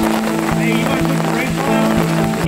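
Rain falls along a forest trail during an ultra marathon, a dense, steady patter on leaves and ground that fills the clip with constant hiss.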